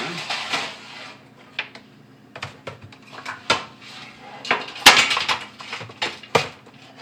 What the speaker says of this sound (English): So, we'll set that aside and bring over the pan